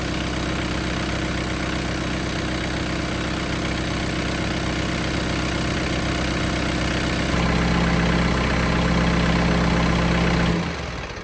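A John Deere 4044M diesel tractor engine idles steadily with a low, throbbing hum, shifting slightly in tone near the end before cutting down.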